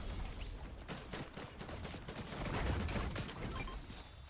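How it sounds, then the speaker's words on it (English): Dense, continuous gunfire from an online shooter video game, rapid overlapping shots and bursts filling the whole stretch at steady moderate loudness, with no voices over it. "Okay, who's shooting at me right now?"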